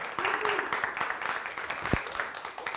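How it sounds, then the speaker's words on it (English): A conference audience at a Bitcoin Private (BTCP) event in the UK applauds the speaker's family, with steady clapping from a crowd and some talk mixed in. "Just want to have an applause for them."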